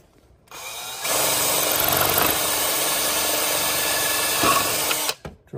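A power drill bores a hole for a plastic mitre fence being mounted on a saw, whirring steadily for about four seconds at close range before winding down, with no talk over it.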